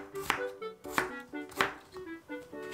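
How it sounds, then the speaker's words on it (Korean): Knife chopping potatoes into flat slices on a cutting board for spicy braised potatoes, with four to five crisp thuds spaced at a steady rhythm, close and clear, and no talking. "감자 두세 개 납작하게 썰어주세요"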